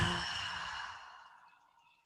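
One long, deep exhale during a breathing exercise, a soft airy rush that starts strong close to the microphone and slowly fades out over about two seconds.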